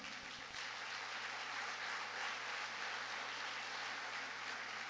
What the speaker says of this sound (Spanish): Así que denle un aplauso al Señor.